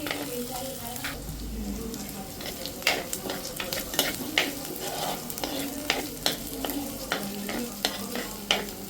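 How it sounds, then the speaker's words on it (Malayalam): Four green chillies fry in a pan for fish curry, a continuous close sizzle broken by regular stirring scrapes and taps of the spoon against the pan. "ഒരു 4 എണ്ണം പച്ചമുളക് ഇട്ടിട്ട് വഴറ്റണം കേട്ടോ"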